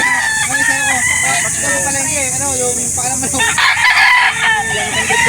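Roosters crow loudly and repeatedly at a chicken market in Barangay Santo Tomas, Calauan, Laguna, overlapping calls with clucking and crowd murmur behind them.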